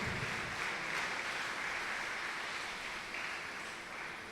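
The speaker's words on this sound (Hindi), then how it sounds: "तालियां जारी रहनी चाहिए जी।" Sustained applause from a church congregation during a Sunday service, continuous mid-level clapping with no pauses, tapering a little toward the close.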